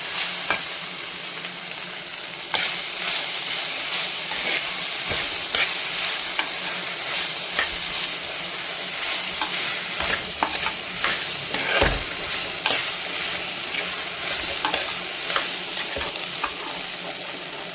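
Okra and potato stew with pepper and green chilies is stirred and sautéed in a pan: a steady close sizzle, broken by repeated scraping strokes of the spoon.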